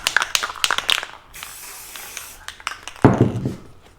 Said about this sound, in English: I'm just going to spray some black spray paint on